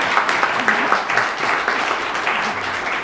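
Audience applause at an anthropology of glaciers talk, a steady broadband wash of many hands clapping that holds fairly loud for about three seconds, with faint voices mixed underneath.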